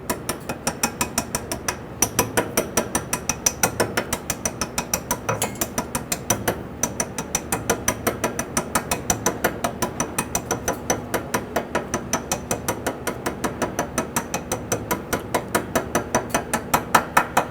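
Steady metallic tapping as an old bearing race is used to drive a new wheel bearing race into the axle tube of a 1999-2004 Jeep Grand Cherokee, evenly spaced sharp knocks repeating throughout, close and alone.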